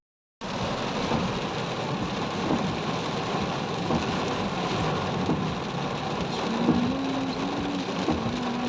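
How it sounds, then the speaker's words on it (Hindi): Heavy rain pours steadily as a dense, continuous hiss that drums on a surface throughout, loud and unbroken, with a faint low rumble underneath. "बहुत तेज़ बारिश स्टार्ट हो गई है"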